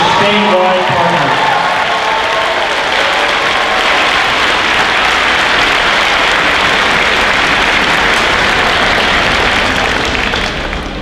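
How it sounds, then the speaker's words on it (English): A large crowd at the 2022 State Summer Games opening ceremonies applauds and cheers, a loud continuous roar of clapping with whoops that holds steady before easing slightly at the end. "Let's give a big round of applause to our statewide partners."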